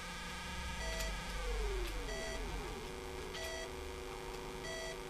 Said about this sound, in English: we've all driven a car that beeps when you're out of fuel